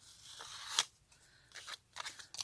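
Scissors snip through paper to cut out small pieces one at a time, several crisp close cuts with short pauses between them.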